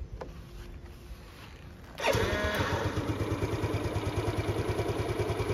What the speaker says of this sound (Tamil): வண்டியோட இப்போ இக்னிஷன் கிராங்க் சவுண்டு பார்க்கலாம்.